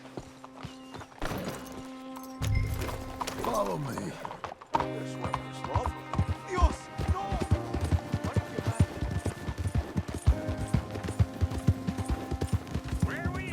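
Horse hooves in Red Dead Redemption 2 clop in a quickening rhythm into a steady gallop, with a whinny early on, over background game music and brief speech.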